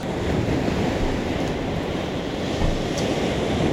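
Rough sea during a storm surge, heavy waves crashing and washing in a dense continuous roar, mixed with wind buffeting the microphone, loud and near with no voices.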